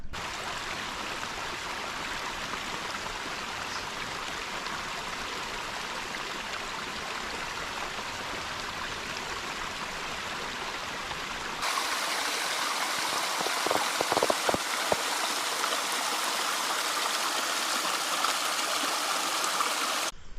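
Spring water at Pocahontas Spring along the Appalachian Trail flows steadily with a constant broadband rush, growing louder and brighter partway through as the listener moves closer, with a few splashy droplet accents near the end.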